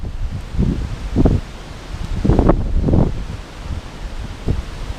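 Gusty wind blows through ancient hollow ash pollard trees on a drove in Somerset, with rustling leaves and buffeting microphone wind noise that swell in several close, loud bursts.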